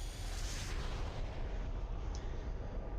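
Explosions in the space game X3: Albion Prelude roll out as a loud, continuous rumbling boom that stays dense and heavy throughout, with no one speaking.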